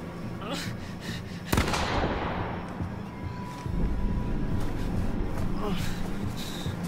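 One sharp, loud gunshot rings out in the horror game The Quarry, followed by a decaying echo. Voices talk before and after it.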